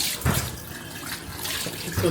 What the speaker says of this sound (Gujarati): વાસણ સાફ કરી રહ્યો છે